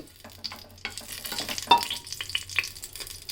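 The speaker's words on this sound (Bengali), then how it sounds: "ফোড়নটাকে এক মিনিট একটু ভেজে নিতে হবে" Whole spices crackle and sizzle in hot white oil as a tempering for a parboiled-rice khichuri with three kinds of dal, with scattered pops and soft stirring scrapes throughout, close and steady.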